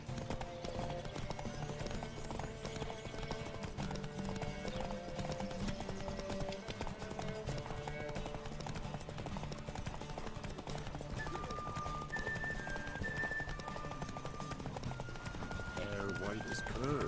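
A horse gallops in The Witcher 3: Wild Hunt with rapid rhythmic clip-clop hoofbeats throughout, mixed with game music and voices talking over it.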